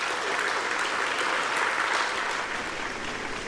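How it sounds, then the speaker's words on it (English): Steady applause from a sizable crowd at the SAIBPP 2014 convention, a dense even clapping that holds without a break throughout. "Please give him a round of applause."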